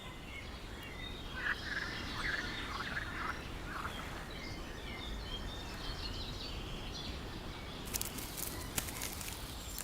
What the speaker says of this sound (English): This natural habitat is not only home to over 200 bird species